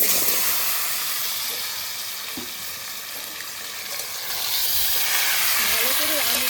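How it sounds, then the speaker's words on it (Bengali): Raw mango pieces for achar drop into hot black mustard oil, and a loud sizzling hiss dips and then swells again toward the end, with a faint voice underneath. "তেল গরম হয়ে গেছে, এখন কালো সর্ষের তেলের উপরে দিয়ে দেবো"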